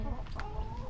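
A striped chicken clucks briefly amid noisy outdoor rural background sound, a short close burst of fowl calls.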